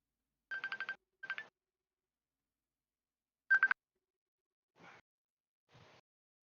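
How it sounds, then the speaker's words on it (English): Telephone keypad tones dialed while placing a call during a game stream: a quick run of short touch-tone beeps, a brief second burst, another cluster a couple of seconds later, then two faint soft blips, all clear with no talking. "I'm calling you, sorry."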